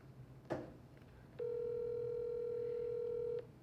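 A steady telephone dial tone hums for about two seconds after a brief click, while a call is being placed, clear and alone in a quiet room.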